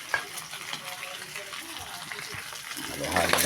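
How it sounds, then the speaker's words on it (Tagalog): Pork ribs are stirred with tomato paste in a frying pan, giving a close, steady sizzle with scraping stirs that grows louder and hissier toward the end. "Halo-halo lang natin yun."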